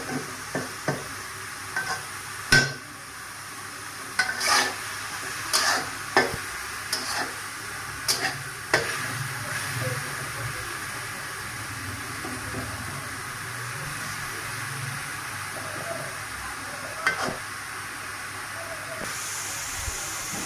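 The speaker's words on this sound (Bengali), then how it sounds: "শাকটা একটা ডাল ঘুটনির সাহায্যে এইভাবে থেতু করে নেবেন।" Telakucha (ivy gourd) leaf greens being crushed with a wooden dal masher, giving repeated soft thuds and squelches at an irregular pace, close and moderately loud over a faint steady hiss.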